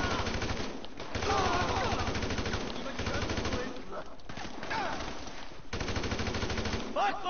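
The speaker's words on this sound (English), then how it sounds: "Where the hell are they shooting from?" Sustained automatic gunfire in a GTA V mission, in repeated rapid bursts with brief pauses between them, loud and close throughout, with a voice breaking in at times.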